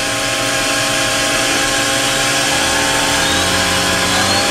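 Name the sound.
O&H Millac 630H CNC machining center spindle speeding up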